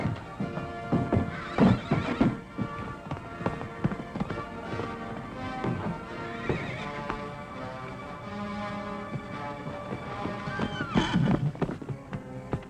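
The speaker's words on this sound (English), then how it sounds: "The white mare is loose!" A white mare neighs loudly twice, once early and once near the end, while her hooves clip-clop irregularly on hard ground in between, close by and dominating the scene.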